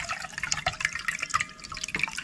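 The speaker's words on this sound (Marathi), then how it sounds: "असं हे सगळं पाणी आधीच काढून टाकायचं" Soaking water drains off soaked rice. Close trickling and dripping continue unevenly over a few seconds, with no one speaking.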